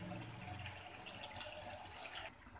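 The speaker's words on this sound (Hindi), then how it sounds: "देखिए हमने इसमें थोड़ा सा पानी ऐड किया है" Water poured into a pan of cooking chicken liver (kaleji), a steady close-up splash and fizz running throughout with no voices.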